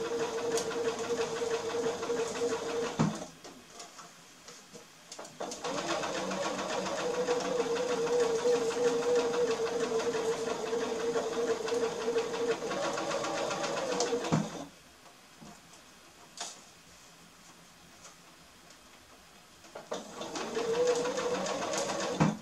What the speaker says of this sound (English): You want to sew it fairly slowly.